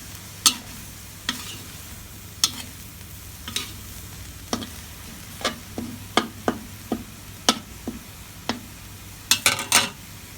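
Curry paste for a pork belly jungle curry is stir-fried in a pan, with a low steady sizzle broken by a dozen or so sharp scrapes and clicks of a utensil against the pan, no talk.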